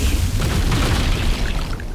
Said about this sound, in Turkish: Sonra bir patlama.